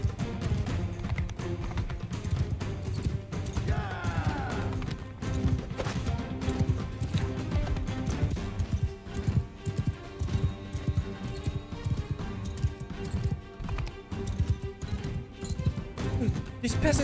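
Horse hooves clip-clop at a run during video game combat, a steady patter with an occasional whinny, mixed with battle clatter and crashes under ongoing talk.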